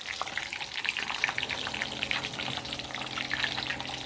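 Elephant ear fish fries in a pan of hot oil, a close, steady crackling sizzle with scattered sharp pops and spatters throughout.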